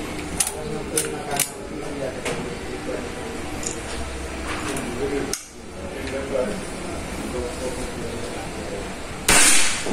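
A Predator Semi CNC Sundel Bolong 500 cc air gun fires a single sharp, close crack amid scattered clicks, with a person talking around it.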